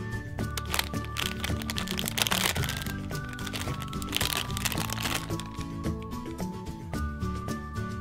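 A plastic Sheriff Callie's Wild West blind bag being torn open and handled, giving repeated close crinkles and sharp cracks of plastic over about eight seconds, with some musical tones running underneath.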